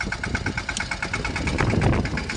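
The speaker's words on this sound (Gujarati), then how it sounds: "જો ટ્રેક્ટર હાકે છે મગફળી 4 દાંતે વાવેલી છે" A tractor runs through a groundnut field sown in four-tine rows, its engine a loud, close, steady rumble with even rhythmic pulsing and no talk.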